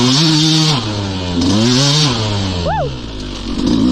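KTM 150 two-stroke dirt bike run at low revs, loud and close, its engine note rising and falling through a few surges, with a quick blip near the end.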